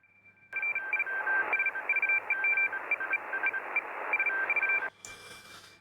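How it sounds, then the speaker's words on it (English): Radio teletype data signal heard on an amateur HF band receiver: a loud, continuous warbling two-tone digital transmission with rapid keyed shifts, lasting several seconds before cutting off abruptly into hissy static. "Sounds like some radio teletype going on there."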